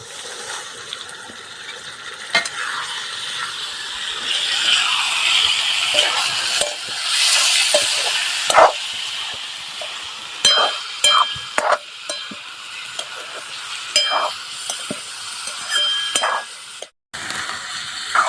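Mutton goes into fried onion in a pot on a wood-fired clay stove at a farmhouse, setting off a loud surging sizzle, followed by clicks and scrapes of stirring.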